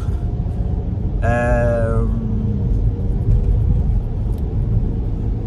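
Truck passing with a deep continuous rumble, plus a brief harmonic horn-like tone or whine that rises above the engine noise for about a second.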